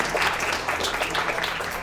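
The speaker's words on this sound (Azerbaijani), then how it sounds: "alqışlarla" A studio audience at a comedy game show applauds in a dense, steady wash of clapping that holds evenly for about two seconds.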